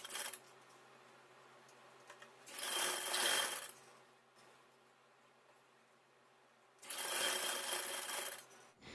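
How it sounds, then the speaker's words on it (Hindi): A sewing machine runs in two short bursts of rapid stitching along a baby dress hem, each a few seconds long with quiet gaps between, fairly close and clear. "मैं यहाँ पे पतला फोल्ड करके सिलाई लगा लूँगी।"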